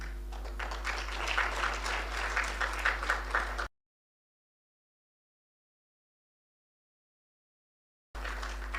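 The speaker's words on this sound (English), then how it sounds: "so you see that clapping of hands" Audience clapping hands at a local government smart city progress report event, a busy patter of many hands at moderate level, cut off abruptly by a long silent gap before resuming briefly, over a low steady hum.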